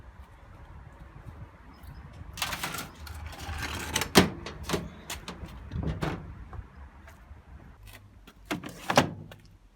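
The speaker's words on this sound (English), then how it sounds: "Let's put it back up again and just give it a spin over by the belt and see if we hear anything clunky" A Bosch WAE24164GB/30 washing machine drum is turned by hand through its belt, giving faint rumbling rotation with scattered clunks and knocks, fairly close in a quiet room.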